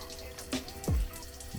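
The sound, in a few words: liquid dripping from car engine with blown head gasket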